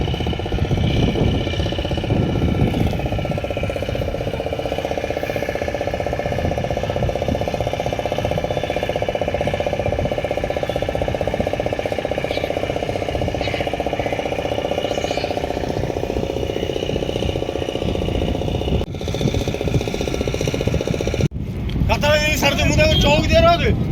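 A motorboat engine at Ramachandi beach drones loud and continuous with heavy wind buffeting the microphone, while people talk over it throughout.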